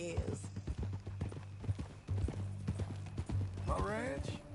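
Horse hooves clip-clop at a walking pace in Red Dead Redemption 2, close and rhythmic beneath men's conversation, with a short whinny near the end.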